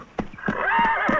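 A horse whinnies in a rising, wavering neigh lasting about a second, close by, with a few hoof thuds at the start.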